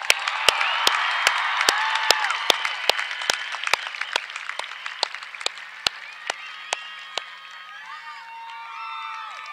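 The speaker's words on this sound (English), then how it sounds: "Can we give the Chandler High School Concert Choir another round of applause?" A crowd applauds at a high school graduation after a concert choir performance, with sharp, loud claps standing out over steady clapping that gradually thins and fades, and a few cheers rising toward the end.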